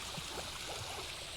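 Steady rushing water flows continuously in a colonial-age video game, a broad hiss with faint gurgles and no talk over it.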